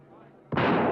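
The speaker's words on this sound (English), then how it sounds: "I'll try firing over their heads." A single warning gunshot fired into the air over a crowd's heads, a loud, sharp crack that cuts in sharply after quiet murmuring and rings on with a sustained burst to the end.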